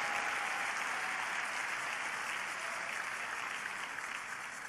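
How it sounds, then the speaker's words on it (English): A church congregation claps together in sustained, dense applause that holds steady and even throughout. "Let's give the Lord a big round of applause for them."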